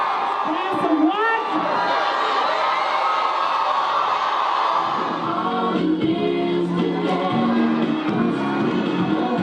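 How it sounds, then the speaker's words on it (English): A crowd of students at a class photo cheers, whoops and shouts together, loud and sustained throughout, with some voices rising above the din. "we got people singing and cheering and laughing"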